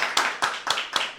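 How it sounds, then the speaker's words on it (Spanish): Hands clap to welcome a guest, Dr. Karina Álvarez, onto a talk show, with about five crisp, evenly spaced claps from a small group, fairly close and with no voices. "Quiero que recibamos con un fuerte aplauso a la doctora Karina Álvarez."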